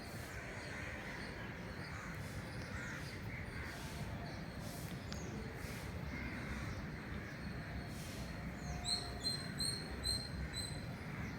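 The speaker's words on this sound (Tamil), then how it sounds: "காக்காலாம் பாரு" Crows caw outdoors, sounding faint and distant, in sporadic calls over a constant low background hum.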